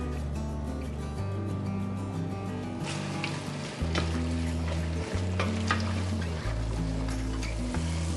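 Ground meat frying in a pan while being tapped apart: a steady sizzle with light scraping and tapping strokes, heard over sustained background music.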